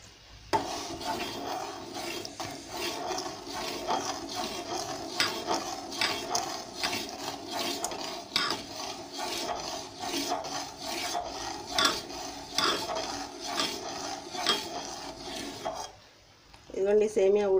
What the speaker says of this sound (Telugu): ఇదిగోండి సేమియా ఉడుకుతుంది.